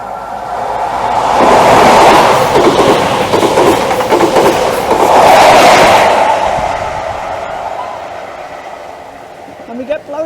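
An HST high-speed train roars past the seafront line at Dawlish, a loud, close rush that swells twice as the carriages sweep by, then fades away.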